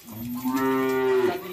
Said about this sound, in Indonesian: dari sebelah kanan ada sapi super, si metal super warna merah marun